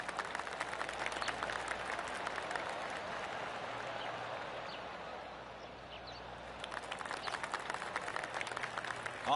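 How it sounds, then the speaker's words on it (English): Soft golf claps ripple across the course in the PGA 2K25 video game, scattered polite applause with some crowd murmur, moderately faint and continuous, swelling slightly toward the end. "I can hear the golf claps around the course."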